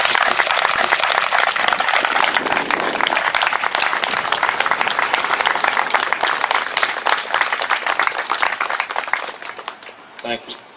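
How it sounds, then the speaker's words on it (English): An audience at a Scott County Civil War memorial dedication applauds veterans with sustained, dense clapping that fills about ten seconds, then thins out to a few scattered claps at the end. "I'd like for us to applaud these guys."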